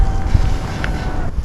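Steady headwind rushing and buffeting against a microphone while cycling on a bikepacking trip from Germany to France, a continuous low roar filling the whole stretch with brief gusting swells, no voices.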